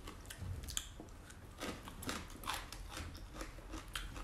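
Crunchy pickled radish skin is bitten and chewed close up, giving a string of sharp crisp crunches in an irregular rhythm with soft mouth sounds between them.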